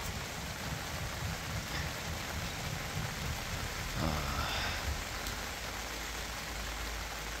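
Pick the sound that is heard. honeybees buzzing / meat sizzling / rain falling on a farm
rain falling on a farm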